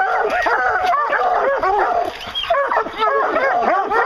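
Hunting hounds bay and bark at a bear treed in a low tree, a dense, overlapping chorus of loud, close yelps and howls with a brief lull midway.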